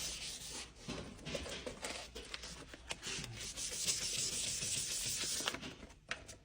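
Continuous wet rubbing and scraping strokes, close and rhythmic, as abrasive paper is worked back and forth by hand over a surface wetted with water.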